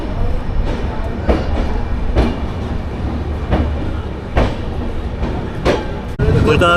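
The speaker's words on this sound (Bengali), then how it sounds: "একদম রাইট টাইমে আমাদের ট্রেনটা ছেড়ে দিল কলকাতা স্টেশন থেকে।" A passenger train pulling out of Kolkata station on a journey toward Varanasi gives a steady, loud rolling rumble, with rhythmic wheel clacks recurring about every second close by.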